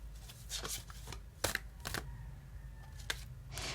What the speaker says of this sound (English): So another shuffle they requested.